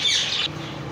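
Birds chirp and squawk loudly and close by at a bird market shop in Multan, Pakistan, in a brief dense burst of high calls with no talking.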